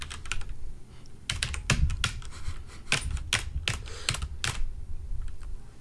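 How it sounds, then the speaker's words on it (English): Keys mashed rapidly on a mechanical keyboard, a burst of sharp, loud clacks in uneven clusters over several seconds, close up and with no talking over them. "Hold on, I have a mechanical keyboard."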